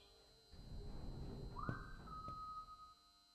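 The player character in the ship-set horror game Lazaret gives one whistle that rises briefly and then holds a steady tone for over a second, fairly quiet over a dull, noisy game background.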